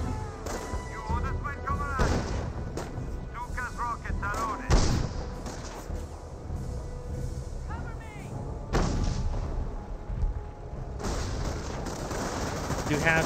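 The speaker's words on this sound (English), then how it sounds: "Hotchkiss firing some long-range shots." Long-range cannon shots from a Hotchkiss tank in Company of Heroes, several sharp booms spaced a few seconds apart over a busy battlefield din, with a voice talking over them.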